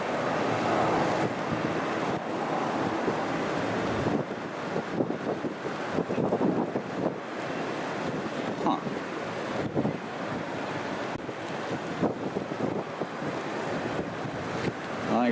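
Strong wind gusting across the beach at Sint Maarten, buffeting the microphone with broad roaring noise and surf underneath, fluctuating for about fifteen seconds without speech.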